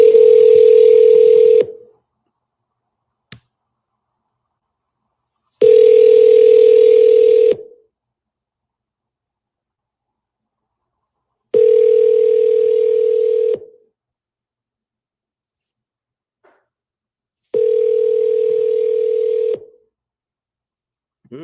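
Telephone ringback tone repeating four times in regular two-second bursts separated by roughly four-second silences, clear and steady, with no voices.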